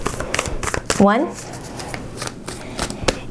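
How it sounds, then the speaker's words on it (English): A deck of tarot cards is shuffled by hand, giving quick repeated riffling bursts up close in an even rhythm, while a voice speaks briefly over the shuffling. "2 more shuffles."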